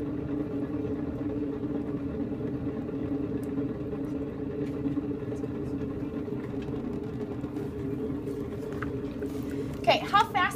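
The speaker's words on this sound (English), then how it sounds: "I can only go as fast as my wheel is spinning." An electric pottery wheel spins clay with a steady low hum that runs continuously under a person talking, and a few brief handling noises come near the end.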